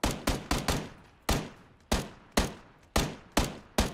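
Gunfire in the video game PlayerUnknown's Battlegrounds: about ten sharp, loud single shots in uneven bursts, some in quick pairs and others spaced apart, each ringing out briefly with no voices.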